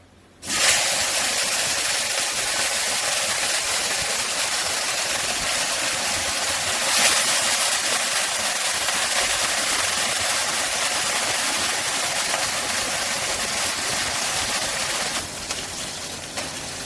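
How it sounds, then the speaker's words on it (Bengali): Fish, salted and laid into hot oil in a home kitchen for masala fish, frying with a loud, steady broadband hiss that starts abruptly and holds evenly for about fifteen seconds before easing slightly. "তেল গরম হয়ে গেছে, এবার আমি মাছগুলো ভেজে নেব"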